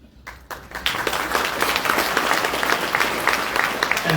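Audience at the Urban League of Northwest Indiana Diversity and Inclusion Awards ceremony bursts into sustained applause, building quickly from a few claps into a full, even round of clapping.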